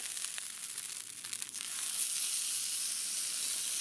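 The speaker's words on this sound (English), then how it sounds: "put them down on the grill, and I'm going to allow it to sear on all sides" Beef roulade bombs sear on a Blackstone griddle with a bright crackling sizzle that swells into a steady hiss once they land on the hot surface, close-up with no talking.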